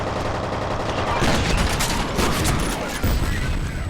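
Gunfire in the video game F.E.A.R., a dense burst of game shots and crackling impacts filling the clip at steady loudness, with a sharper hit near the end.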